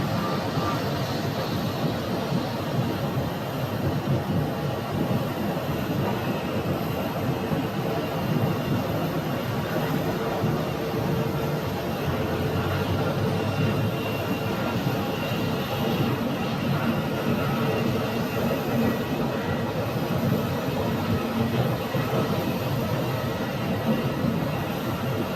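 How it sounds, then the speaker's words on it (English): WestJet airliner inbound from Vancouver landing at Phoenix airport, a steady loud broadband roar of jet engines sustained throughout without a break. "this WestJet is landing from Vancouver"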